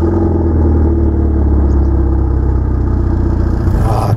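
A Cadillac ATS 2.0T with a turbocharged four-cylinder GDI engine heard from inside the cabin while driving, a steady low droning hum with a faint rising tone, fairly loud, fading out near the end.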